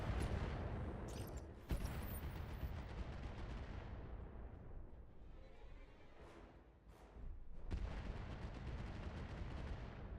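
Artillery fire in the BattleTech video game: heavy, rumbling blasts and crackling volleys roll on continuously, loud and close, with a brief lull before another surge of impacts.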